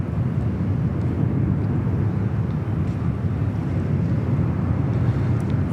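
An airliner arriving on the right runway at Sydney Airport produces a steady, deep, rumbling roar mixed with wind buffeting the microphone, continuous and fairly loud throughout.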